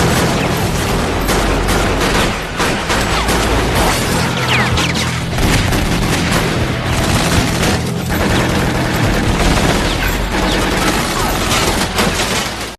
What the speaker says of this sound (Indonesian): memilih untuk baku tembak saja